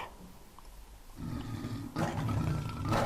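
A lion's roar from a Minecraft Morph mod transformation, a loud growling roar rising after a quiet second and swelling twice toward the end, with no talking.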